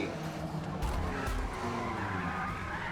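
Tires skidding and squealing as a Honda Civic Type-R touring car spins out in Forza Motorsport, a continuous loud scrubbing screech over engine noise lasting the whole moment.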